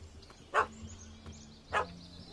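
A dog in the video game The Witcher 3 gives two sharp, loud barks about a second apart, standing out clearly over a low, steady background drone with no talking.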